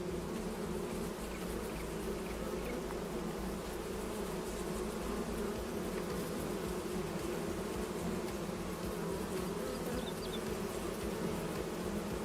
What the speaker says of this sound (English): we definitely have to stand right in front of the bees